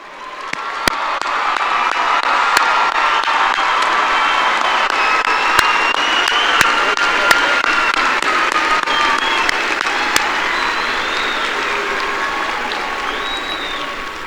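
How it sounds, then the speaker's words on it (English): A large crowd at a high school graduation ceremony applauding loudly and continuously, with scattered cheers, whistles and sharp individual claps standing out from the dense, sustained roar. "loud round of applause."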